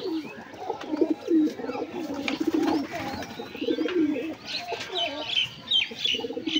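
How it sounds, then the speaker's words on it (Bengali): Pigeons in a home loft coo repeatedly in low throaty bursts, moderately close, with other birds chirping faintly behind them and a voice in the background now and then. "এই যে দেখছেন মুখে খাইয়েছে পায়রা।"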